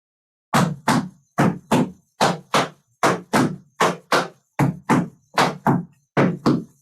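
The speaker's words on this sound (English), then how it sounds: "Flap, heel, flap, heel, flap, heel, toe, heel." Tap shoes strike a hard floor in a flap-heel drill, crisp paired clacks repeating in an even rhythm, about a dozen sharp hits close and loud with silence between them.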